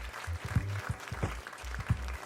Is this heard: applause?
yes